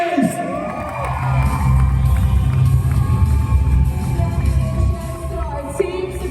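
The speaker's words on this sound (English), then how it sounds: "Let us give another round of applause" A crowd at an LRN Philippines event for the Riway International team roars with cheers, whoops and shouts, loud and sustained throughout, with voices rising over a dense, steady wall of noise.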